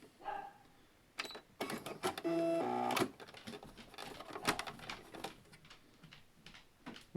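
A sewing machine stitches leather for a wallet in short, faint bursts of rapid mechanical whirring and clatter, separated by quiet pauses, with one longer run in the middle.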